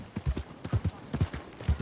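Horse hooves clip-clop in an irregular walking rhythm in Red Dead Redemption 2, about a dozen close, soft thuds over a couple of seconds with faint voices in the background.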